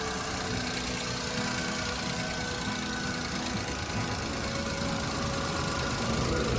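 A 2021 Maruti Alto 800 VXi idles steadily with its bonnet open, a continuous mid-pitched engine drone with faint ticking and no talk over it.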